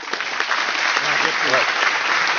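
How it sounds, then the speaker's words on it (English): A crowd at a branch meeting breaks into applause, a thick, even roar of clapping that stays loud throughout, with faint voices buried beneath it. "Let's give Mark a big applause coming on out."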